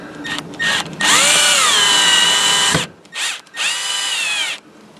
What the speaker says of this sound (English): And then we will put the screws back in, almost in the same holes